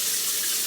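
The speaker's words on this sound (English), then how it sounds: "Clean the chicken with water?" Water from a kitchen tap runs steadily to rinse raw chicken, a continuous close hiss with no pauses.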